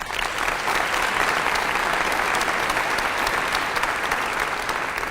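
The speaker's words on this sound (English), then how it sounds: "And now we can really cheer" Audience at the Macon-Bibb State of the Community event cheering and applauding, a dense, steady wash of clapping with scattered whoops that stays loud and even throughout.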